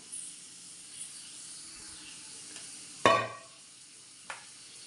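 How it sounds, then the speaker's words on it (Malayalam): Coconut oil poured into a hot frying pan on the stove, sending out one sudden loud sizzling splash that fades quickly, followed later by a short sharper crackle over a quiet background hiss. "നമുക്കതിലേക്ക് കുറച്ച് വെളിച്ചെണ്ണ ഒഴിച്ചു കൊടുക്കാം."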